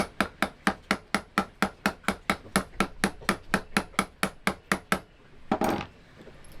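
A boat bearing is driven on with a socket through a rapid, even series of about twenty light, close metallic taps, followed by a brief scraping rustle.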